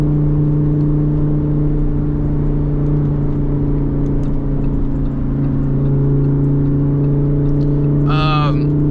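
A Lamborghini Huracán EVO Spyder engine drones steadily and loudly throughout while driving, a constant low hum with a brief higher rev near the end.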